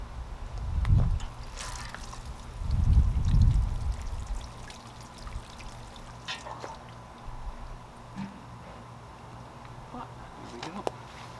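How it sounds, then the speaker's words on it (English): Water is poured from a container onto a freshly potted pepper plant being brought in for winter, giving a couple of short, close splashing pours with quiet pauses and faint background noise between them. "And just water it a little, just so it's got some water in the"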